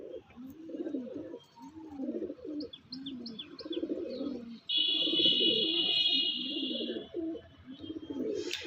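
Pigeons at a backyard loft where birds are kept for sale coo in repeated low rolling phrases, close and steady, with a few brief chirps and a sustained higher whistle-like call midway.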